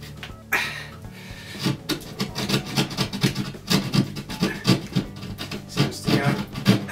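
A trusty knife scoring and cutting into an old cottage wall during renovation, repeated rough rasping strokes in an irregular rhythm, close and moderately loud, no talking.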